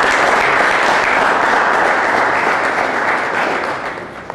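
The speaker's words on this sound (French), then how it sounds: "je pense que ça peut franchement mériter des applaudissements" Audience applause at a sports talent awards ceremony, a dense, steady wash of many hands clapping that holds loud for several seconds and then begins to fade near the end.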